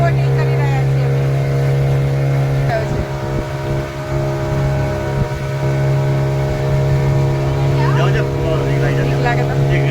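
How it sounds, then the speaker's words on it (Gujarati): A boat motors across the water during a pleasure boating ride, a loud steady engine drone with a constant hum throughout, with faint voices and splashing noise over it. "બોટિંગમાં બોટિંગ કરી રહ્યા છીએ અમે."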